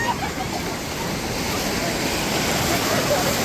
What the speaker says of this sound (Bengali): ভাই ঢেউটা মারাত্মক আসছে